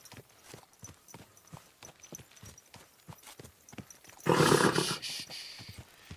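Horse hooves clip-clop in a steady walking rhythm during a ride in a video game, close and clear, followed by a louder burst of rushing noise near the end.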